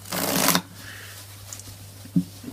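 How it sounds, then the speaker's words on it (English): A deck of playing cards being shuffled in a short dense riffle burst up close, followed by quiet with a couple of faint handling taps. "And now we'll just give it a shuffle."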